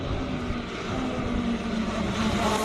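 Ferrari 488 GT3 race car at the Speed Classic Cape Town hill climb, its engine a steady, fairly loud roar with a sustained low drone, heard from some distance amid outdoor noise.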